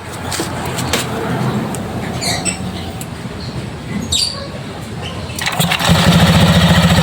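A Euro Griffin 180i motorcycle engine cranks and catches, then settles into a steady close idle with a rapid, even rumble, free of rattling.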